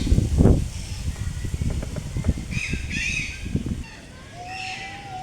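A zoo's black swan gives a few honking calls amid background chatter and other bird sounds, with several soft bugle-like notes rising over low murmuring.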